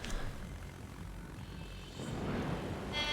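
Propeller-driven torpedo planes in a Midway naval battle video game drone steadily at moderate loudness, the engine noise swelling slightly toward the end, with no talking.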